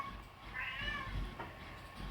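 A male cat meows once, faint and drawn out, over a steady low hum from a 3D printer running in the room.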